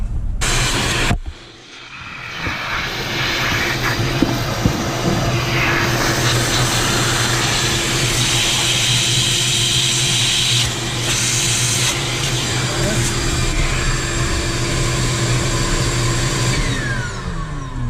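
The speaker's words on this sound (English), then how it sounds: "So we got to vacuum that all up." A loud vacuum cleaner whines steadily, with occasional rattling clicks of metal drill chips being sucked into the hose, cleaning up during a thread insert install on a 2014 GMC Sierra; a brief cut near the start.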